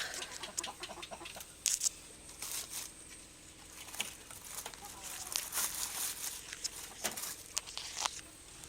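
Rhode Island Red chickens cluck nearby amid crinkling and scratchy pattering sounds, with scattered sharp bursts throughout.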